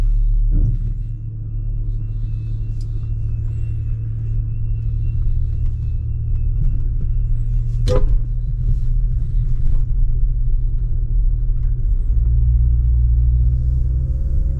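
A 1997 Volvo S70 drives along a UK road with a steady, smooth low engine and road rumble throughout, quiet and even, with a brief click near the middle and no talking.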